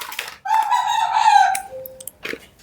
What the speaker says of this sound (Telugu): మా కోడి కుయ్యకే కుయ్యకే అంట కూస్తుంది